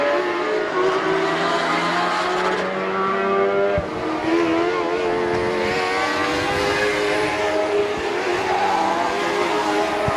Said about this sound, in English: This is the first time ever racing on asphalt.